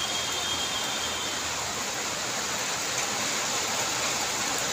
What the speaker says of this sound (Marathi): भरपूर जोराचा पाऊस येत आहे